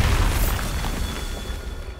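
Bombarda explosion spell in Hogwarts Legacy, a heavy booming blast that hits hard at the start and then rolls on as a sustained rumble for about two seconds, loud and near with no voices.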